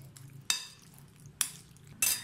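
Chicken being mixed with salt and red chilli powder in a bowl, heard as three sharp scraping clinks of a utensil against the dish over a quiet background, with no talking.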